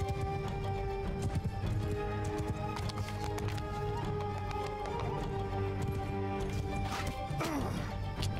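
Galloping horse hooves in the Mount & Blade II: Bannerlord video game, a rapid pounding run buried in a loud, busy mix of battle noise and a steady droning tone.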